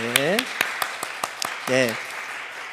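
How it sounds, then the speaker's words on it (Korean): At a church youth service, the congregation claps to welcome newcomers. Sharp, separate handclaps arrive at an irregular, loose pace, and a voice speaks briefly over them at the start and again near the end. "우리 박수로 환영하겠습니다"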